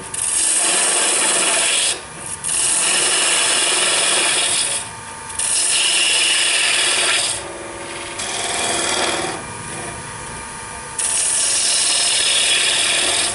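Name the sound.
sanding a wooden water dipper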